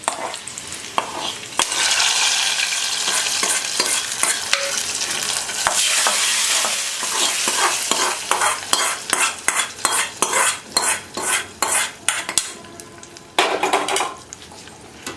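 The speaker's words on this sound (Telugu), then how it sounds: "ఈ పోపు మిశ్రమాన్ని ఈ పప్పులో కలపాలి." Hot oil tempering sizzles loudly as it is stirred into spinach dal, a spoon scraping in the pot with repeated rhythmic clinks and bursts of frying throughout.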